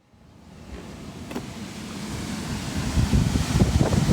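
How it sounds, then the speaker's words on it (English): A Lennox rooftop unit's blower motor spins up, a rushing whoosh of air that starts from near silence and grows steadily louder and rougher over a few seconds. "Well, our blower motor's running"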